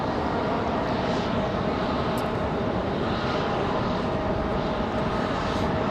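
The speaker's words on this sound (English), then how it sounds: "Republic Airways 4493 off to Chicago O'Hare" A Republic Airways jet taking off from Raleigh Durham International airport makes a continuous broad engine roar, steady and fairly loud throughout with no talk.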